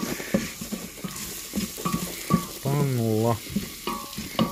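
Garlic sizzles in oil in a frying pan while utensils clink and scrape, and a steady hiss swells for about a second amid the clatter.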